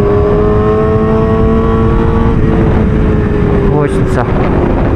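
Motorcycle ridden on a road near Semizovac, engine droning loud and close with a steady tone and slight throttle change, wind roar throughout, a person speaking over it.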